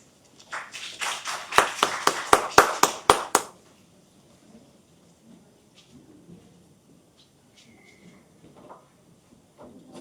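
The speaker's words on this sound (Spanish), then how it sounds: "a quien brindamos fuertes palmas" A short burst of audience clapping at a scientific-writing lecture event, rising quickly into a few seconds of brisk, fairly close claps, then breaking off into a quiet room with faint scattered rustles.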